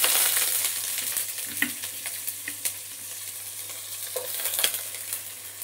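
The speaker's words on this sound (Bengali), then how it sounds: "এটাকে পেঁয়াজটাকে একটু ভালো করে ভাজা করে নেব, লাল লাল করে ভাজা করে নেব" Chopped onion frying in a pan for a sweet lentil dish with water spinach, a continuous close sizzle broken by scattered scraping stirs and light clinks.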